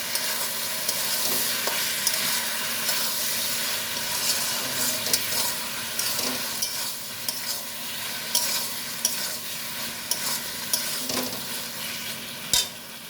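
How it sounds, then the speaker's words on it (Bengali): Ridge gourd and spices sautéing in a pan, a steady soft sizzle with occasional stirring scrapes and clicks of a utensil, close and continuous with no talking. "এবার ভালো করে এগুলোকে কষিয়ে নেব"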